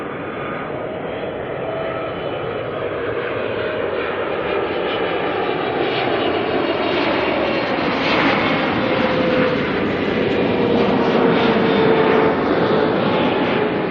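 A Boeing 777 airliner landing at Auckland Airport gives off a steady, broad jet roar that builds slowly as it nears, with a faint whining tone sliding downward over the rumble.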